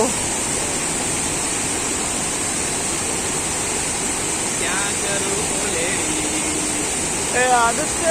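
A forest stream in rural Konkan rushes with a steady, full wash of flowing water, with a few brief voices rising faintly over it.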